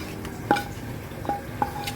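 Tempering goes into cooked dal sajna in a pan, with a few faint metallic clinks of a spoon against the cookware as it is stirred, quiet and sparse.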